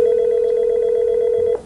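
Dialing tone from a business desk phone's speed dial button, one steady tone holding unbroken for about a second and a half and then cutting off, close and loud.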